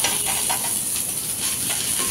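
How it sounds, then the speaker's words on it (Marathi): Garlic sizzles hard in hot oil for a tadka, oil spitting, ahead of frying pomfret pieces Konkani style; a steady, loud, close crackling hiss that runs unbroken with no voices. "खूपच तडका असा आपण देत आहोत लसणाला। तुम्ही बघू शकता कसं तेल उडत आहे।"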